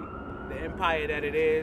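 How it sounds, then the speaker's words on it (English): A wailing police siren rises and falls in the distance while someone speaks over it. "You might hear the sirens in the background"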